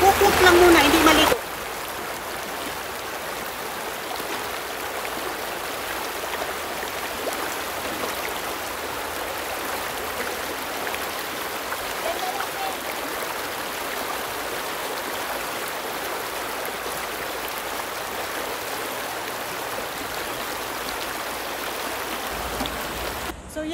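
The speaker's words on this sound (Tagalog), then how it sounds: "nandito kami sa Palacol River" Palacol River stream flowing steadily on a summer day, a continuous broadband rush of moving water heard close and alone for the whole stretch, after a brief louder burst at the very start.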